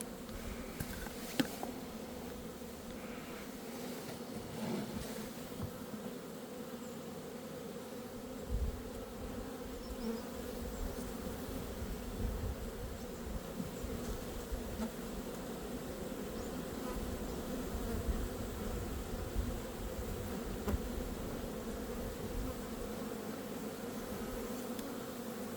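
Honeybees hum continuously around a hive given a formic acid treatment for mites, a steady close buzz with individual bees passing now and then.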